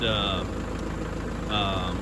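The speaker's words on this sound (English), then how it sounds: "I got the tiller on the back of the tractor" A tractor with a tiller mounted on the back runs steadily at close range, a loud, even engine drone with a high whine rising briefly at the start and end.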